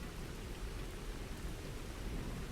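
Steady, dense rainfall pours down as a constant broadband wash with a deep low rumble of thunder beneath, faint and even with no voices.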